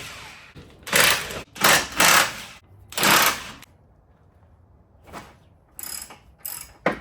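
An impact wrench on a Jeep Wrangler JL rear bumper bolts fires in several short, loud rattling bursts separated by quiet pauses, close up with no talk.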